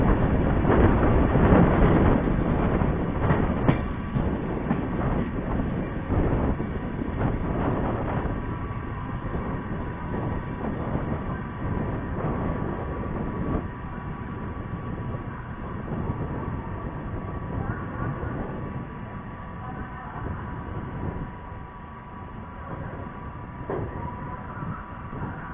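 The Prayagraj Express runs steadily on the rails with a continuous rumbling roar heard from inside. Faint rhythmic clatter and creaks sit over the drone, which stays fairly loud and even throughout, with no voices.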